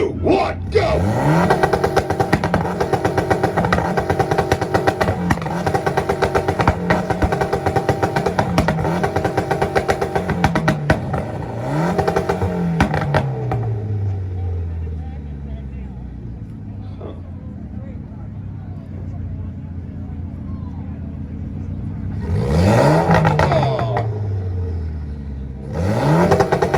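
Mitsubishi Evo engine revving at a rev battle car meet, loud repeated rising and falling revs close by with a crowd and voices around it, settling to an idle before two more sharp bursts near the end.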